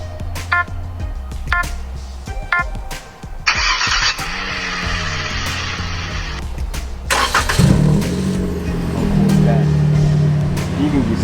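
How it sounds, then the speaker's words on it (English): A Toyota Camry with a push-to-start remote kit cranks and fires up, after a few short electronic beeps and a brief whir, then settles into a loud, steady idle close by. "and then the car will start"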